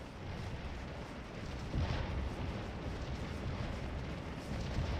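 Continuous rumbling artillery fire from a Civil War battle video game (7 Days Around Richmond mod, Gaines Mill), a dense distant roar of cannon booms blending into a steady low wash with no voices.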